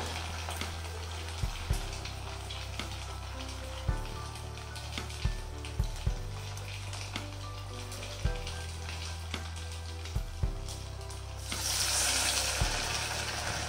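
Rice vadas made from leftover rice fry in hot oil over a low flame, giving a steady soft sizzle with scattered pops and crackles throughout, swelling louder and hissier near the end.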